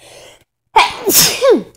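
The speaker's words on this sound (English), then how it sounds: "Uh-oh, I have to sneeze." One sharp human sneeze, close and loud, with a quick inhale before the burst and a short voiced tail after it.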